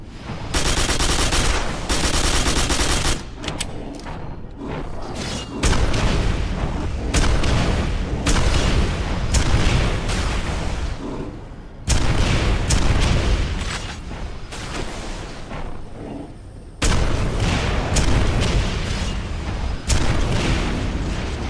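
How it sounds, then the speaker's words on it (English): Repeated loud gunfire from the shotgun in Quake 4 on Xbox 360, dense bursts of blasts in rapid volleys with short gaps, close and dominant with no talking. "That shotgun is probably my favorite gun."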